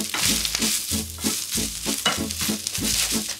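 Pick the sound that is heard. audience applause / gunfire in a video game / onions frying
onions frying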